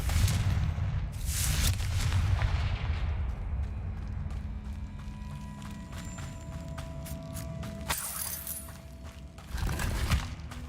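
Confringo blasting spell in Hogwarts Legacy, with sharp explosive bursts at the start and a later blast, amid clicking, rattling game effects and footsteps in between.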